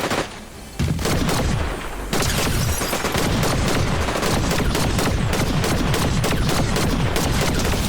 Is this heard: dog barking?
no